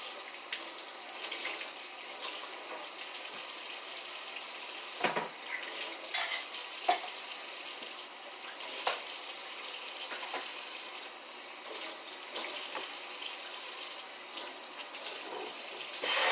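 Hot water runs steadily from a kitchen sink tap while sponges are rinsed out, a continuous close hiss with occasional splashes and clunks as things shift under the stream.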